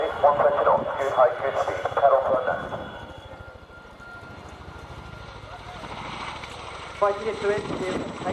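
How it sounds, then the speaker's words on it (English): A helicopter performs a pedal turn during an air display at RIAT 2023, its rotor and engine droning steadily at a distance while a commentator talks loudly over it. "takes the aircraft into pedal turn to reposition from ground left"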